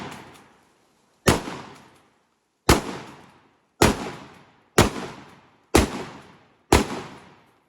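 A 12 gauge shotgun fires six loud, sharp blasts at a steady, unhurried pace, each booming report trailing off into a short echoing decay, with the tail of an earlier shot at the very start.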